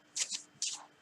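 A deck of cards is shuffled in two quick riffling bursts, close and soft, with a short pause between them and no talk.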